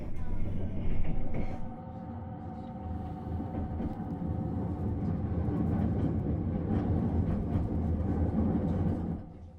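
A train rumbles continuously along a river through deep mountains inland, a steady low roar with rattling, close and fairly loud, with no talk.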